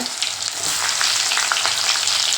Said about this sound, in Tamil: இப்போ வெங்காயத்தை போட்டுக்கலாம் பூண்டையும் போட்டுக்கோங்க